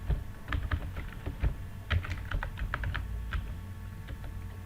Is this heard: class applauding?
no